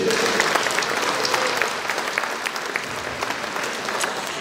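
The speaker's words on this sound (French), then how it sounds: "Donc, on peut les applaudir." A crowd claps at a festive community meal, a loud continuous round of applause from many diners with some murmuring voices mixed in.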